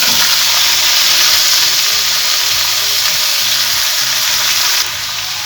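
Chopped vegetables, including spinach, sizzle and fry loudly in hot oil with a dried chilli and bay leaf, making a steady, dense crackle with faint utensil knocks underneath before the hiss dips slightly near the end.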